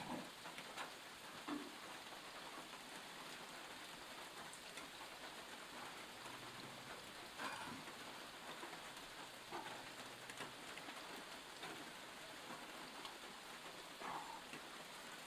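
Steady rain falls outdoors while food is cooked over a wood fire, a soft continuous patter with scattered drops, faint and even throughout with no voices.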